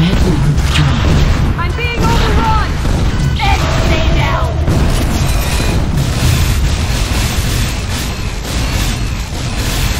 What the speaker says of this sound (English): Missile strike inbound.